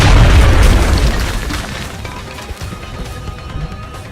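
Explosion in the XCOM: Enemy Within video game, a loud deep boom at the start that rumbles and slowly fades over several seconds.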